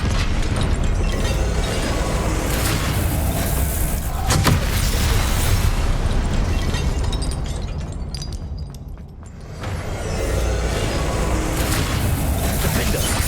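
Incendio fire spell bursts in Hogwarts Legacy, a loud, continuous roaring blast of flame with rumbling booms, a sharp crack near the four-second mark, a brief dip around nine seconds, then a renewed dense roar.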